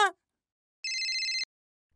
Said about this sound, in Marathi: भिडेचा फोन आहे.